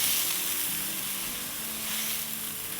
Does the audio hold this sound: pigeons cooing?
no